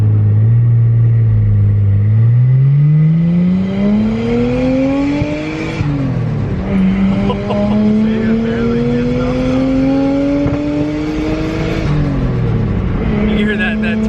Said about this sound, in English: You hear that turbo flutter.